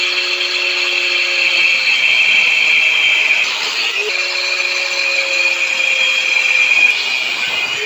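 A power tool cuts spacers along a marked line during a CT200U-EX trike build, giving a loud, continuous high-pitched whine that holds steady with slight pitch dips throughout.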